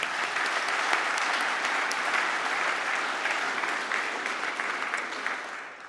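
Steady applause from the audience at a science awards ceremony, dense and continuous, fading slightly toward the end, with no speech over it.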